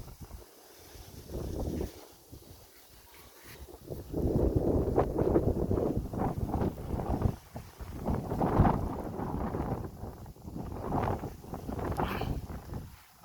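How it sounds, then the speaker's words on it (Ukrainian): Strong wind buffets the microphone in long, roaring gusts in a peach orchard, rising and falling, with rustling underneath and a brief lull near the start. "Дуже сильний вітер."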